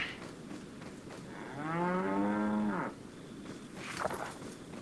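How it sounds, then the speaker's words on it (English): A cow in the Resident Evil 4 VR game gives one long, loud moo that bends slightly in pitch over about a second, set against a quiet in-game ambience with a short clatter after it. "That goddamn cow. You've mooed your last moo."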